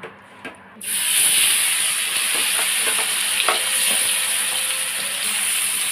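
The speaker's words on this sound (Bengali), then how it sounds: "এখন কড়াইতে তেল গরম হয়ে গেছে," Prawns coated with turmeric and salt drop into hot oil in a wok, setting off a loud, steady sizzling hiss that holds through to the end after a brief quiet start.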